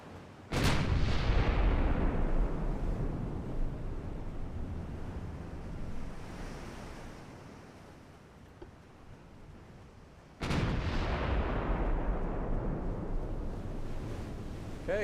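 Naval guns in a video game fire two heavy booming salvos about ten seconds apart, each a sharp blast trailing into a long rumbling decay, with no talk.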